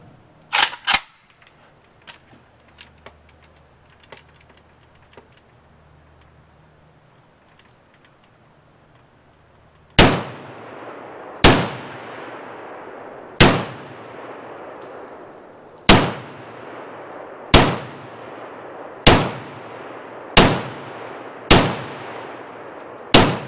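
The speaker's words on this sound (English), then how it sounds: "Shooting my brother's AK." Shots from a Chinese Type 56 AK rifle on a range, about ten sharp, loud reports with ringing decay, spaced a second or two apart after a quiet stretch of faint clicks and handling.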